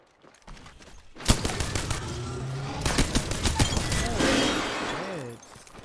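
Gun fired from the hip in the aim trainer KovaaK's, a sharp volley of rapid shots in quick clusters after a quiet start, loud and close, with a voice talking over the later shots.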